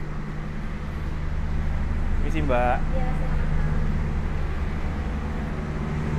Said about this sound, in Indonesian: ruangnya ini bergabung dengan pembangkit teman-teman, jadi emang agak sedikit berisik ya